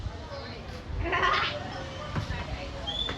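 A goat bleats once, briefly and at a moderate distance, during an outdoor cricket game. Voices chatter around it, and steady background noise continues throughout.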